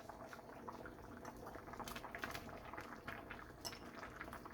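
Mung bean soup with sponge gourd boils in a pot, a faint steady bubbling and simmer with a few soft clinks of utensils.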